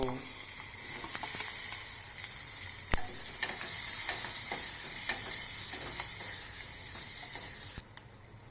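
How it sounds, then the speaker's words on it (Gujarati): Chopped chilli and tomato added to hot oil sizzle steadily in a pan for a Gujarati capsicum curry, a close, continuous frying hiss with light stirring clicks and a brief clatter near the end. "ત્યાર પછી આપણે જે મરચું અને ટમેટાનું કટિંગ કરેલું છે તે ઉમેરી દઈએ"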